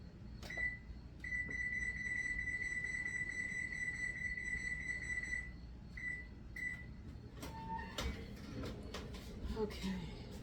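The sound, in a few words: oven being switched on to 450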